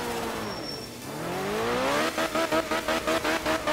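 Rally car racing along a course in the game Art of Rally, its engine note climbing steadily as it accelerates, then a rapid stuttering pulse of rev or gear-shift cuts, loud and close with no talking.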